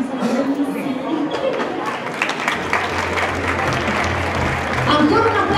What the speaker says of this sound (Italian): ancora un applauso a Bruno Caruso e le sue meravigliose muse